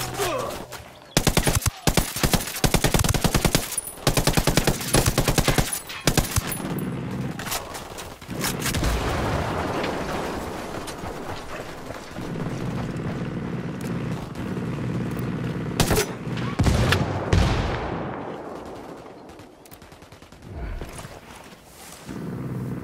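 Gunfire in the video game Ghost Recon Wildlands, loud bursts of automatic and single shots at the start, then a rumbling roar with scattered later shots and a tapering whoosh.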